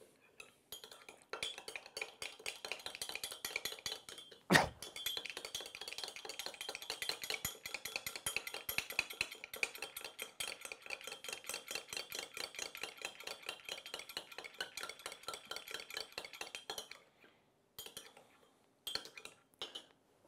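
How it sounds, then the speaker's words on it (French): A utensil whisks salt, lemon juice and olive oil into a vinaigrette in a bowl. Rapid, steady clinking and scraping runs close and continuous for most of the stretch, followed by a few sparse taps and then silence near the end. "On le mélange ensuite avec le jus de citron et l'huile d'olive."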